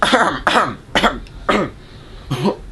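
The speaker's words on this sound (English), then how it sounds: "Had a little bit of a cough." A run of harsh, raspy coughs and throat-clearing, four or five bursts in quick succession, close and fairly loud.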